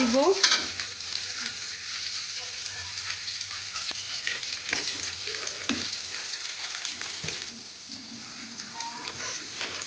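Raw mango for a sweet, sour and spicy pickle cooks in a pan over a low flame, giving a soft, even sizzle with occasional stirring and faint talk in the background.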